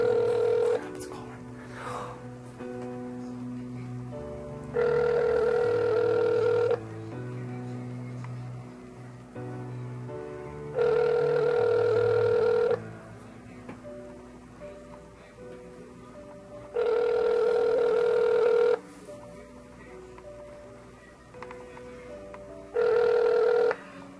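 A telephone call ringing out unanswered, with four evenly spaced ringback tones, each about two seconds long, separated by pauses, heard over a faint background hum and soft talk.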